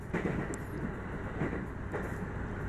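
Inside a train bound for Shin-Shirakawa: a steady low rumble of the moving carriage with faint periodic rail clicks and clatter, no talk.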